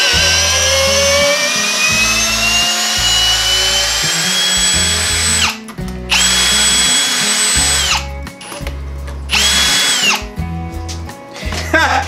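A power drill spins a universal socket to back an 8-inch by 3/8-inch lag screw out of wood, its motor whining up and down in loud bursts with short pauses between runs.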